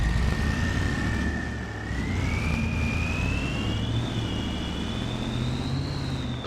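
A video game truck engine from a Farming Simulator-style mod starts and runs steadily with a deep rumble, a whining tone slowly rising in pitch above it as it revs.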